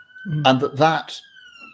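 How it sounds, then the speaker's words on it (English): Ambulance sirens sound in the distance as a steady, faint wailing tone that runs the whole way through, partly beneath someone speaking. "oh, look, the sound of ambulances taking off."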